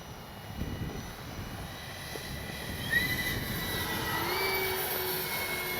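A Freewing twin 70mm AL-37 RC jet flies overhead, its ducted fans giving a steady whooshing roar with a thin high whine that rises and sweeps as it passes, moderately distant, with no talking.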